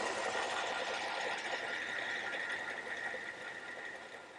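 A lathe spindle turns steadily while cutting threads as the cross slide feeds, giving a continuous close mechanical whir that eases off slightly toward the end, with no talking.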